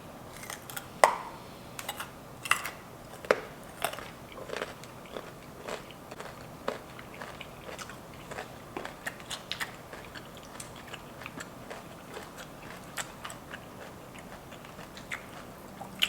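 Crunchy food such as raw celery or carrots eaten close to the microphone during a mukbang, sharp crisp bites and crunches repeating irregularly over quiet background, with no talking.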